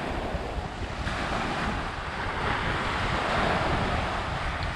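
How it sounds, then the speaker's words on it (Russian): A stormy sea washes onto an empty beach at Sudak in a continuous, loud rush of surf, with wind buffeting the microphone and no voices. "Покажу вам море. Сегодня оно немного штормит"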